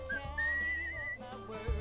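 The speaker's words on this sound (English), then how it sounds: "I can whistle. I've learned that." A character whistles in the video game Where Water Tastes Like Wine, a sustained steady tune heard clearly over low background game music.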